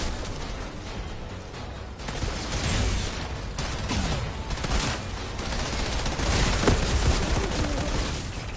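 Pistols fire in rapid succession during Outriders combat, sharp shots tumbling over one another amid steady battle noise at a moderate, sustained level.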